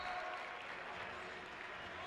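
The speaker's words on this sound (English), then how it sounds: "Crowd with a warm applause for Depe as he comes back in" Warm applause from a college basketball crowd at an RPI versus Vassar championship game, a steady distant patter of clapping that fills the gym evenly.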